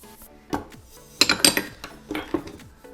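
A chopstick stirring pumpkin seeds coated in sugar and cinnamon inside a bowl, scattered clattering scrapes and taps in uneven bursts, close and moderately loud.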